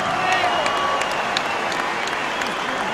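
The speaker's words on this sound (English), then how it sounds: "Ladies and gentlemen, a round of applause for 2 boxers who gave everything." Crowd applause fills a boxing arena after a twelve-round professional bout, a dense steady wash of clapping and cheering that holds loud throughout with a voice faintly mixed in.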